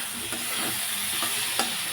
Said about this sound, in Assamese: অলপ ফ্ৰাই কৰি ল'ম।